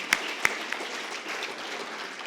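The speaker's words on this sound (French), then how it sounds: "Des applaudissements, s'il vous plaît, pour ces jeunes." A closing ceremony audience applauds young presenters with a scattered, steady clatter of clapping at moderate distance, punctuated by a couple of sharper nearby claps at the start.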